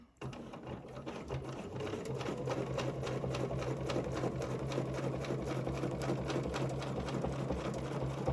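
A sewing machine stitches a fabric placemat at a steady, even hum with a rapid needle chatter. It runs close and continuously for several seconds after a short start.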